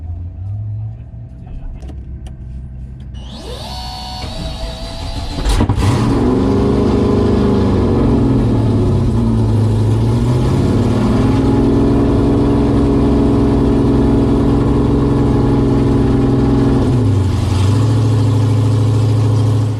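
A 1000hp drag car engine cranks and fires, then settles into a loud, rough high idle around 2,500 RPM from a stuck throttle body, its drone dipping and swelling a couple of times, heard up close with brief talk nearby.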